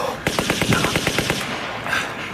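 A rapid burst of machine-gun fire in a live radio theatre play, a dozen or so loud evenly spaced shots rattling off over about a second, then a lingering noisy tail.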